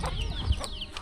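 Chickens cluck at a rural Thai village farm, short overlapping calls close by over a busy, steady background of other noise.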